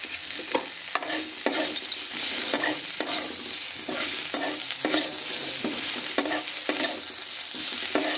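Prawn heads fry in hot oil with turmeric and chicken masala for chingri bharta, a steady close sizzle broken by regular stirring strokes in a loose rhythm, with no talking.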